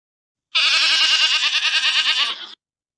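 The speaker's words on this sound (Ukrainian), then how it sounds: "сім'я кіз, тато цап, мама коза, дитинча козеня" A single goat lets out a long, wavering bleat, loud and close, about two seconds long, with silence before and after.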